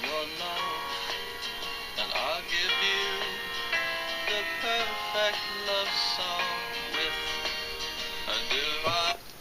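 A song plays, with sustained chords and melodic lines in a steady flow of shifting notes, moderately loud throughout.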